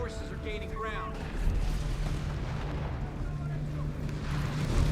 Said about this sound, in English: Whoa, that's a huge Gatling gun.